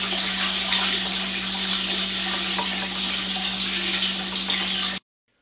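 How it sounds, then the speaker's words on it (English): Water poured steadily over mashed grains through a strainer into a brew kettle while sparging for a homebrewed IPA, a constant close splashing rush for five seconds that cuts off abruptly. "Right now I'm sparging the grains with some water."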